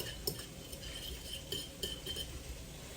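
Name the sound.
fork stirring dressing in a dish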